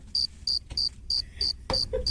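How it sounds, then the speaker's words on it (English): Crickets chirp as a sound effect in a radio talk show, about seven regular, evenly spaced pulses, loud and close, with no talk over them. "play the crickets"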